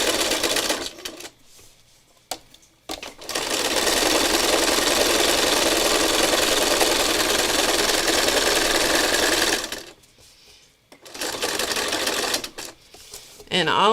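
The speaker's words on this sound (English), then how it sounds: "all I'm doing here is just doing some extra stitching because some of these ribbons were so wide" A sewing machine stitches extra seams on wide ribbons, running in one loud, steady whir for several seconds, with brief starts and stops and a person talking in the gaps before and after.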